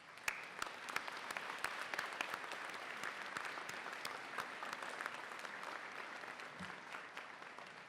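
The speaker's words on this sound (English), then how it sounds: "Let's applaud them." Steady applause from a large commencement ceremony audience, sustained clapping throughout with a dense crowd texture and no voices.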